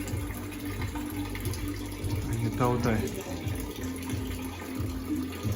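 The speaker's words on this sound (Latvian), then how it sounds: "Te ir tā kā izveidot tāds smuks ūdens krāniņš." Water trickling from a decorative tap in the old medina of Fez, Morocco, a steady splashing flow under a noisy, echoing street scene while a person talks nearby.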